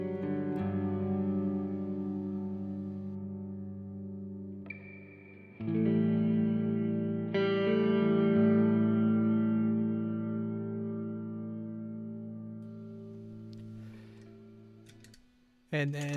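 Electric guitar notes and chords played through a Lost and Found reverb pedal, bloom into long, lush hall-style tails that ring out and slowly decay, with a couple of fresh strums restarting the wash before it fades.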